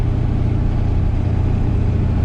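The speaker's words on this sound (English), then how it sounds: "I'm gonna do a 5th gear pull. I'm starting from 55 miles an hour." A 7.3 diesel truck pulls hard in fifth gear from 55 mph, its engine a loud, steady, close drone with dense low rumble throughout.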